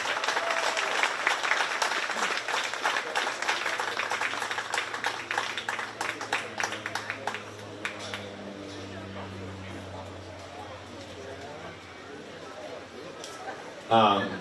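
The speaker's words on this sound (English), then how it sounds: "Let's give these kids a big round of applause" Audience applause at a 4-H sheep and goat show during the Shelby County Fair, a dense patter of clapping that fades after several seconds, with voices and a low hum continuing underneath.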